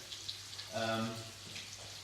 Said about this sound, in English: So, this is the sizzle.